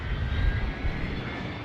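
T6 propeller aircraft engines at air races drone loudly and continuously, a rough, steady roar with low rumbling pulses and no pause.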